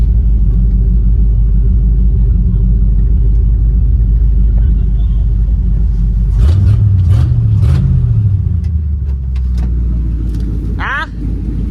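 An old car's engine rumbles at a loud, steady idle, then revs a few times in rising and falling surges before easing back to a low rumble.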